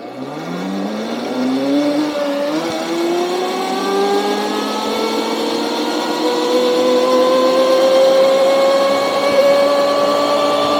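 A Hoverhearts electric dirt bike in mode 3 accelerates hard from low speed, its motor whine climbing steadily in pitch and holding loud and continuous as the bike picks up speed, with no talking.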